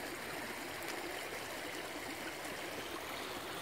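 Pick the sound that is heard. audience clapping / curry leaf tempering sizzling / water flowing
water flowing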